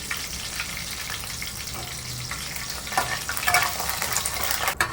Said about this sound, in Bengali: তেজপাতা কাঁচা লঙ্কা আর জিরেটা ভালো তেলের সঙ্গে মিশে গেছে।